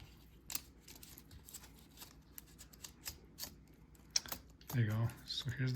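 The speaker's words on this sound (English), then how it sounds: "So let's put in the new keyboard." A replacement keyboard is fitted into a MacBook Pro A1398, giving faint scattered plastic clicks, taps and rustling handling noises, with a person briefly speaking near the end.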